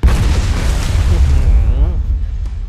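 A bomb blows up in the survival video game CryoFall: a loud, deep boom that rumbles and fades over a couple of seconds.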